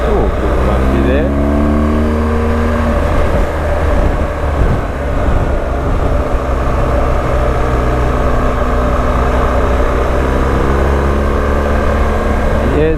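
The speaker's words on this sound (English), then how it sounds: "You can hear the engine." A BMW engine drones steadily while the car drives along a coastal road, a continuous low hum with rising and falling tonal sweeps as it changes speed, loud and close with no talk.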